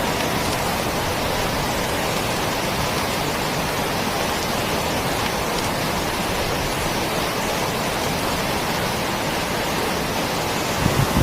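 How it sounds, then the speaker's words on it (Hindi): Heavy rain in a Hindi cartoon story about a farmer's crops: a dense, unbroken roar of downpour, loud and even for the whole stretch, with no voices. "देखिए दोस्तों, कितना तेज बारिश हो रही है।"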